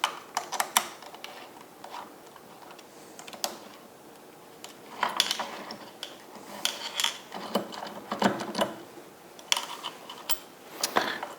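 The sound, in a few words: screws being started on Emco Maximat 7 Multifix tool post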